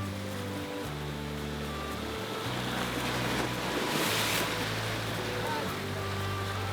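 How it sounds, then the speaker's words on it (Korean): Strong waves crash on the East Sea shore at a fishing harbour. The roaring surf swells in the middle of the clip over a steady low droning hum. "몰아치는 거센 파도는 위태로워 보이지만"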